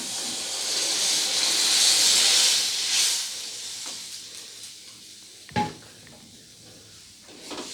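Hot fish curry of rohu and tomato in a pan sizzles and hisses loudly as water is poured in, a broad steady rush that gradually settles into a quieter simmer, with a brief clatter midway.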